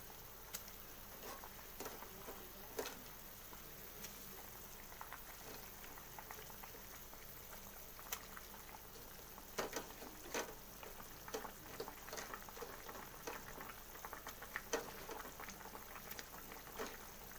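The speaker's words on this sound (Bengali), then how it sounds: "দেখুন ফুটছে জলটা, বড়াগুলোকে আমি আস্তে আস্তে ছেড়ে দেব।" Water boils in a pot before potato fritters are added, a quiet, steady bubbling with scattered small pops and ticks over a low background hiss.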